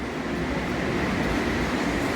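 A steady, broad rumble of an Airport Express train rolling past nearby at Sunny Bay Station, continuous and fairly loud for a couple of seconds.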